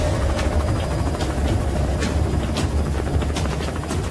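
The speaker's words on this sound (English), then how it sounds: "This actual HSI recording shows a helicopter offloading several large duffel bags." A helicopter's rotor and engine produce a steady, loud broadband roar with faint rhythmic pulsing throughout, heard from a distance in an aerial surveillance recording of a cargo offload.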